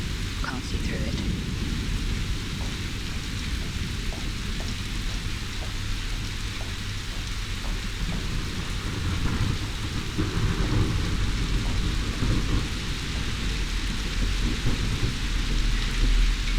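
Heavy rain pours steadily with rumbling thunder rolling underneath, a dense, continuous wash of noise that swells slightly louder in the second half, with no voices.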